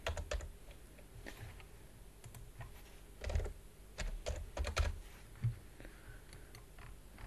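Keys clatter on a computer keyboard in irregular bursts during AutoCAD drafting work, close and fairly quiet, with brief pauses between the runs of typing.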